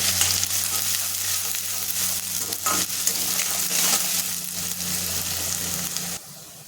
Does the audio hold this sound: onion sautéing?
yes